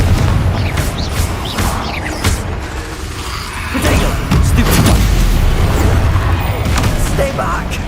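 Loud, dense blasts and booms from the Confringo fire spell in Hogwarts Legacy, a sustained barrage of crashing impacts with game effects throughout and no clear gaps.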